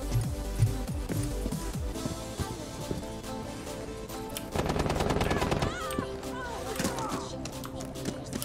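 Gunfire in Rainbow Six Siege, including pistol shots, comes as bursts of rapid shots under a busy game mix, densest in the second half, with a player talking over it.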